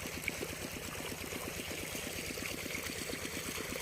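A pump pushes water into a rice paddy field planted with RD49 rice, giving a steady rhythmic engine throb under continuous rushing, pouring water, with no talking.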